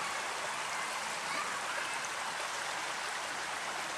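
A babbling outdoor stream rushes in a steady, dense wash of water, close and continuous for the whole stretch, with no speech.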